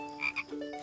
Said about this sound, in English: How about a great big frog with googly eyes?